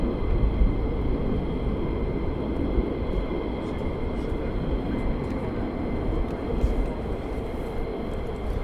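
Aircraft on approach to RAF Mildenhall with landing gear down, a steady, broad engine roar holding evenly throughout, fairly loud and continuous with no talk over it.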